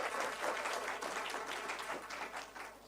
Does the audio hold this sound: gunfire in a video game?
no